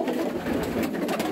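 Racing homer pigeons coo in their loft, a soft, continuous murmur of low bird calls close by with no talk.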